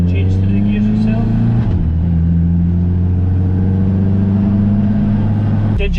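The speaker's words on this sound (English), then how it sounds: "I'm going to let this thing warm up a little bit and drive into town" A K-swapped Mazda RX7 with a DCT gearbox drives off, its engine holding a loud, steady droning hum from inside the car, with a brief dip at a gear change before settling back into the even tone.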